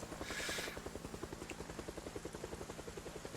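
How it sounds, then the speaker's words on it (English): Helicopter in a zombie survival video game, its rotor thumping in a steady, fast rhythm throughout with a brief burst of hiss near the start, loud and close with no talking. "helicopter makes a lot of noise, attracts zombies"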